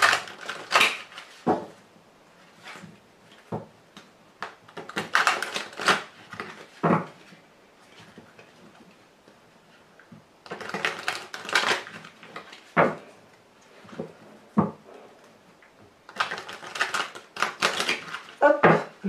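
Tarot cards shuffled and cut by hand during a reading, giving bursts of crisp rustling and slapping riffles separated by short pauses, close and fairly loud, with no talk.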